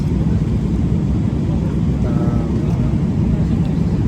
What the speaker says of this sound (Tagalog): Ito ngayon, nasa aeroplano.